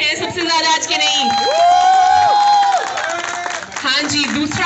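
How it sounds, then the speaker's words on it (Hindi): A crowd at a lucky-draw ceremony applauds and cheers for a couple, steady clapping and whoops running under loud amplified talk and music throughout. "इन दोनों के लिए तालियां"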